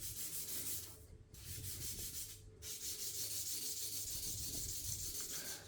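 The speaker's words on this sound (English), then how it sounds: "I take another sandpaper. I need it wet so it gets this better finishing." Wet sandpaper rubs steadily across a brass watch dial in close, continuous back-and-forth strokes, with two brief pauses early on before the scratchy sanding resumes evenly.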